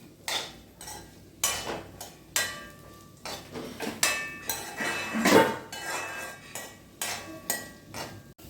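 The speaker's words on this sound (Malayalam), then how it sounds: "നമ്മൾ കോരിയെടുക്കുകയാണ്" A metal ladle repeatedly scoops fried onions out of hot oil in a pan, producing loud, close clanks and scrapes at a steady rhythm of roughly one per second.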